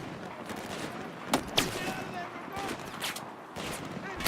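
Single-fire gunshots in the first-person shooter Battlefield 4 Shanghai campaign crack out as a handful of separate sharp reports spaced irregularly over a steady bed of game noise.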